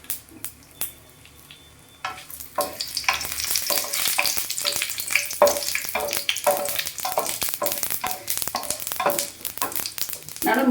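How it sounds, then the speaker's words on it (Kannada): Mustard seeds, cumin and four dried red chillies dropped into hot oil for a Kannada dill and black-eyed pea stir-fry, quiet at first, then bursting into loud, steady sizzling with sharp crackles and pops throughout. "ಎಣ್ಣೆ ಕಾದ ಇದೆ. ಸ್ವಲ್ಪ ಸಾಸಿವೆ ಹಾಕೋಣ. ಸ್ವಲ್ಪ ಸಾಸಿವೆ, ಸ್ವಲ್ಪ ಜೀರಿಗೆ ನೋಡಿ, ಒಂದು 4 ಒಣಮೆಣಸಿನ್ಕಾಯಿ ಹಾಕೋಣ."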